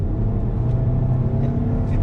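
Volkswagen Tiguan R Line SUV with four-wheel disc brakes stopping hard from 100 to 0, a steady loud low road and engine rumble throughout with no speech.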